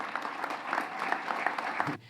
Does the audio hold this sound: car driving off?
no